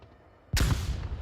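A single sharp, loud gunshot cracks out in the Onward VR shooter and rolls away in a short, booming echo after a moment of quiet.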